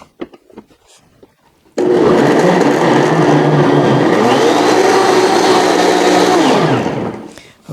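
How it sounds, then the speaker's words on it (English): A blender grinds chocolate milkshake ingredients, plain chocolate syrup among them, in a loud steady motorized whir that starts abruptly after a quiet moment, holds for about five seconds, then winds down. "now I'm going to grind it up"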